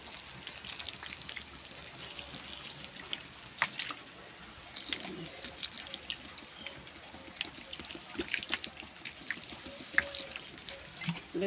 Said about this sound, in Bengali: এখন এগুলিতে একটু জল দিব।